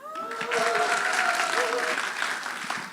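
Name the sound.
audience applause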